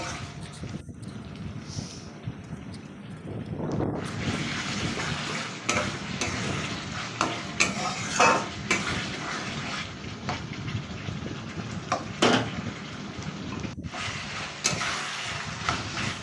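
Potatoes are sautéed and stirred in a pan for a chital fish curry, giving a continuous sizzling fry with scraping stir strokes and occasional louder clatters of the spoon, close and steady throughout.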